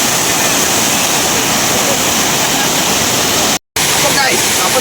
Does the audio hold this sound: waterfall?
yes